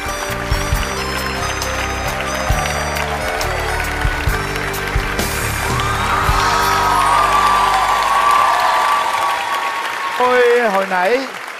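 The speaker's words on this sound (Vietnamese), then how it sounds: "Nào, một tràng pháo tay dành cho cặp đôi hát tình ca đẹp quá" Audience applause with cheering and whoops breaks out after a love-song duet on a stage show, a dense, sustained clatter of clapping under a host's amplified voice, swelling toward the end.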